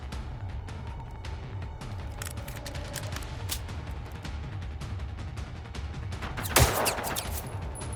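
Gunfire in the video game Generation Zero: many sharp shots and bursts crackle through a steady rumbling background, with a louder blast near the end, and no voices.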